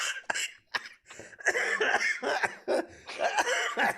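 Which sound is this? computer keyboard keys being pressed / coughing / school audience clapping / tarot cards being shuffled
coughing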